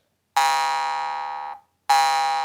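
A jaw harp played with lips closed, twanging in two long, bright, buzzing tones, the first sustained over a second and fading, then another starting, loud and close.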